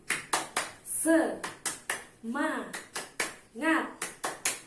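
A group of women claps a rhythmic spirit clap in a training session, sharp repeated claps in a patterned rhythm, with chanted voices joining between them.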